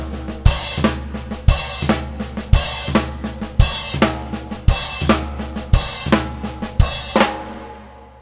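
Drum kit plays a slow flam pattern across floor tom, snare, hi-hat and kick, sharp doubled hits recurring evenly with low booming kick strokes, close and loud with no talking.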